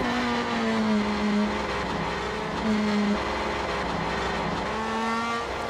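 Race car engine in the Assetto Corsa racing game, on a touring-car track mod, with steady loud engine tones and shifting pitch as the car slides and skids through corners, running throughout with no talk.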